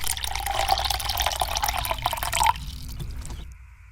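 Milk pours steadily from a carton into a container in a home kitchen for about two and a half seconds, then the flow stops and a few faint drips and handling sounds follow in a quiet room.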